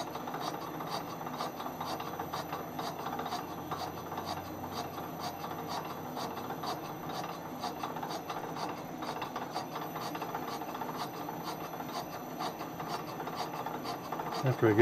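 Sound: lathe cutting motorcycle cylinder bore

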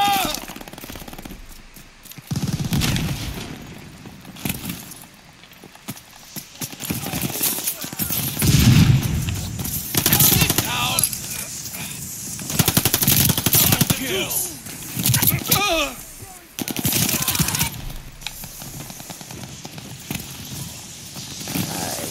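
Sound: machine gun fire in Call of Duty Vanguard video game

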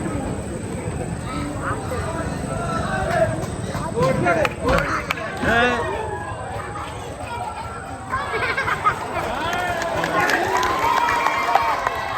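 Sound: audience applauding and cheering at Kalaripayattu demonstration

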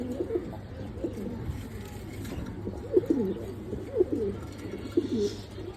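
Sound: pigeons cooing

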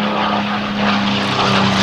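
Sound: P-51 Mustang propeller aircraft flying past

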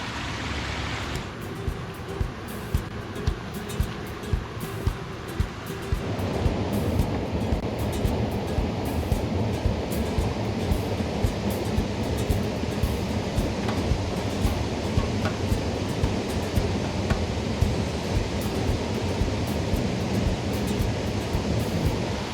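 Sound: waterfall roaring in a forest

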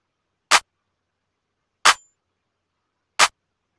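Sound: layered clap sample in a beat in FL Studio

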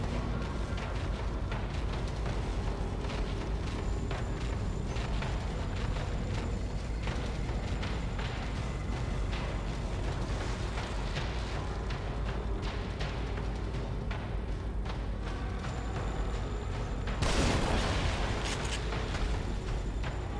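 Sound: grenade explosions in The Evil Within video game

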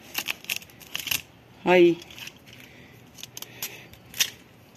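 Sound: cutting rotten desert rose plant stem

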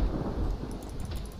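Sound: rain and thunder in video game

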